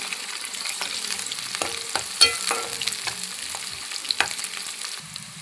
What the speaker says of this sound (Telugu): ఆనియన్స్ కొంచెం బ్రౌన్ కలర్ వచ్చే వరకు వేయించుకోవాలి